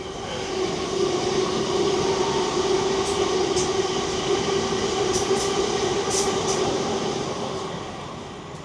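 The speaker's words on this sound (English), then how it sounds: "Here comes the train." A train rumbles past steadily and fairly loud, with a continuous rolling roar and a few sharp high squeals or clatters partway through, fading slightly at the end.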